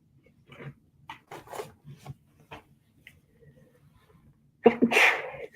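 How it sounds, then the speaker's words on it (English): One sharp, loud sneeze bursts out near the end, preceded by scattered soft rustles and quiet handling noises in an otherwise hushed room. "I'm so sorry I keep sneezing."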